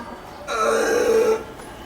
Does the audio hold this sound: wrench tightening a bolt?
no